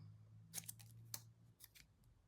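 Scissors cutting out a paper picture, several crisp close snips in an irregular sequence over a faint low hum, quiet overall with no talk.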